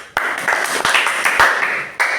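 A classroom group claps for a student in an Epie language lesson, a short burst of loud, uneven hand claps with a few sharp individual slaps standing out.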